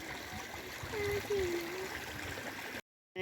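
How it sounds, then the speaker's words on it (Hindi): Water flowing from a drinking-water tap fed by a pipe in a Himalayan village, a faint steady trickle and gurgle that stops abruptly at the end. "यहाँ पे देखिए ये पाइप लगा हुआ पीने के पानी के नल को।"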